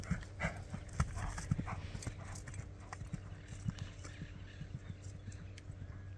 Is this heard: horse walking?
yes